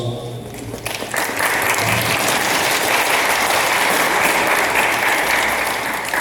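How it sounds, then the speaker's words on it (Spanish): Loud, steady applause from wedding guests right after the couple is pronounced husband and wife, rising after a brief quieter start and continuing as a dense wash of clapping. "Fuerte voz de aplausos"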